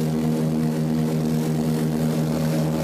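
Airplane cabin noise in flight: a steady, loud engine drone with strong low tonal hum, constant and unbroken, with no talk.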